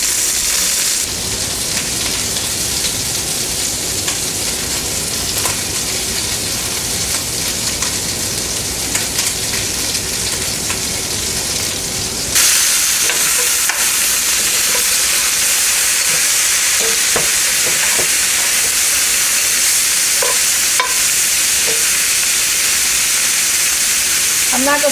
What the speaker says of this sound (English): I don't want the sausage to cook very long, maybe a few minutes